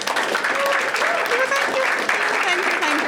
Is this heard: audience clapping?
yes